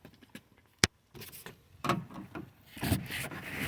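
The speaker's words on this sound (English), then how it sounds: "stick it in there, and just kind of pry that pin out like that" A plastic trim tool scrapes and pries a push pin out of the mirror trim on a 2009 GMC Sierra, giving short rubbing and clicking sounds close up, with a sharp snap near the start.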